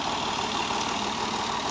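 A Made in England 135 tractor engine runs at a steady idle, with an even, close, continuous low mechanical hum and no voices.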